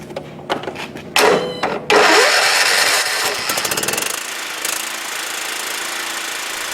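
A riding lawn mower engine is cranked with a few short starter whirs, then catches and roars loudly, settling into a steady close idle with a rapid rhythmic chug.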